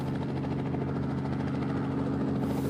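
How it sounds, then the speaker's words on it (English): A helicopter's rotor chops in a steady rapid beat, loud and close, with the engine's drone underneath throughout at a steep volcano summit in the Aleutian Islands. "requiring the helicopter to land right on the summit"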